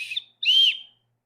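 A small plastic survival-kit whistle blown twice, a short chirp then a longer shrill blast, close and loud, with silence after.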